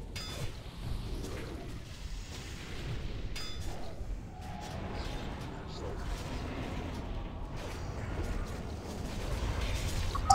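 Cannon fire booms in a video game battle, low rumbling blasts and explosions running under frequent excited talk from players.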